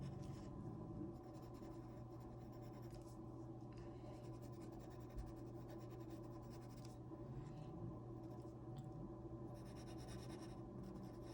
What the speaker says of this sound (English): I'm just going to draw little shadows of these people.